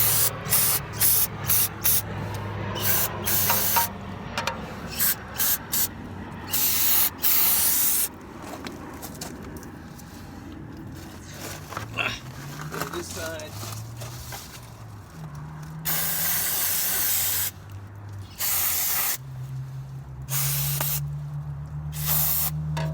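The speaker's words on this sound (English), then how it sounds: "Got your basic O'Reilly's brake cleaner. Put your little hose in there." Brake cleaner from a basic O'Reilly's can sprays through a small attached hose while a motorcycle's rear brake pads are serviced, giving repeated loud hissing bursts of varying length with short pauses and a low hum underneath.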